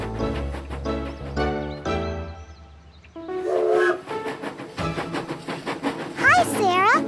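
Lively cartoon music with voices, then a bright rising-and-falling whistle near the end, like a toy train tooting over the bouncy score.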